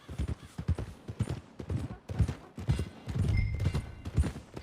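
Horse hooves clip-clop in Red Dead Redemption, a steady rhythmic trot of thudding steps that comes and goes, fairly close and loud, with game music or ambience underneath.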